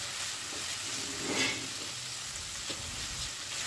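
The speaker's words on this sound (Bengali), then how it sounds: "এখন আমি কাঁঠালের বিচিগুলোকে আরও দু এক মিনিট ভালো করে ভেজে নিচ্ছি।" Chopped jackfruit seeds frying in a pan, giving a dense, continuous close-up sizzle with a short swell of louder crackle near the middle.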